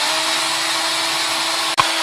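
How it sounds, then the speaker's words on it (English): A power drill whirs steadily at high speed, then stops with a sharp click. "I'm going to drill a hole into it."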